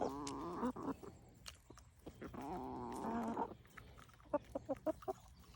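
Backyard chickens being hand-fed sprouted grains, making two drawn-out, wavering vocal calls followed by a quick run of short clucks, close and fairly loud against a quiet background.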